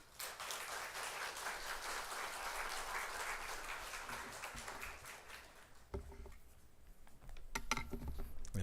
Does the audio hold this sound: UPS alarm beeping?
no